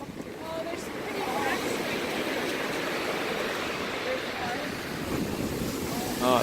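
Sea surf on a Canary Islands shore rushes and splashes against a structure in a steady, broad wash, mixed with wind buffeting the microphone and a few faint voices.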